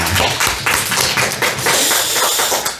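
Church congregation applauding in worship, a loud, dense burst of many hands clapping that rolls on steadily without a break.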